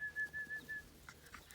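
A bird held in a bag for five-week-old puppies gives a few clear whistling, cooing calls early on, followed by faint rustling and scattered quiet sounds.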